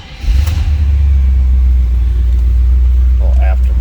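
A 1977 Pontiac Trans Am tribute car's engine fires up and settles into a loud, steady, deep-throated idle, with a brief voice murmur near the end.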